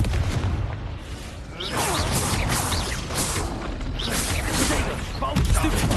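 Explosive spell blasts and magical combat effects from Hogwarts Legacy, including the Confringo fire spell, with repeated loud booming impacts over a continuous busy battle din.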